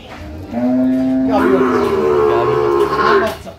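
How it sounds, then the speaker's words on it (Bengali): A cow with her calf moos loudly and close by: one long, drawn-out low call that rises in pitch partway through, with a livestock market setting around it. "আর একটা গাভী বাছুর। এই যে গাভী বাছুর।"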